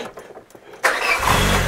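A Peugeot 205 engine cranks and fires up close, a sudden loud start after a quiet moment, settling straight into a rough, steady running rumble.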